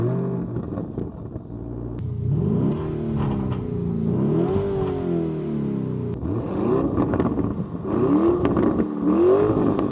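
A 2024 Lamborghini Urus S SUV revs its engine hard, with repeated rising and falling throttle blips over a deep rumbling idle, loud and close with no talking.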